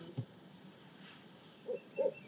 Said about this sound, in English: I like owls. That's fine with me.